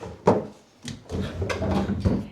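Wooden dresser drawer at an Airbnb rental, pulled open and pushed shut several times: a string of hollow knocks and sliding scrapes with short pauses between them, close by and fairly loud.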